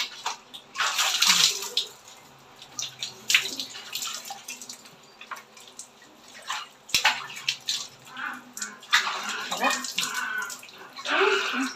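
Water runs and splashes in bursts while dogs are bathed under a shower, with gurgling and drips between surges and voices talking over it at times.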